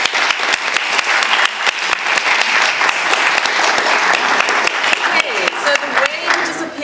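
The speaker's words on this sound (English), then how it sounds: "So let's give them a round of applause." Loud, continuous audience applause at a youth festival discussion event, dense clapping close by that eases slightly near the end as a voice begins to speak.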